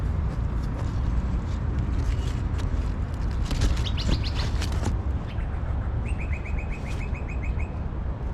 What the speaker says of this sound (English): no shortage of birds.